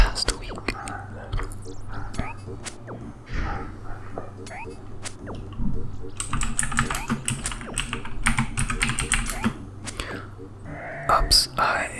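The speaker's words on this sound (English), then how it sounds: "I was typing in the Runescape chat" Rapid, irregular keyboard typing close by, typing in Old School Runescape chat, in quick bursts with brief pauses, over a low background hum.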